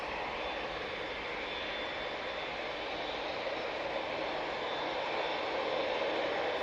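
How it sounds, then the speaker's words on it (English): Jet2 airliner operated by ET Fairways departing Manchester Airport for Naples, a loud, steady jet engine roar filling the whole stretch with a slight swell toward the end, no voices. "ET Fairways operating on behalf of Jet2 is off to Naples"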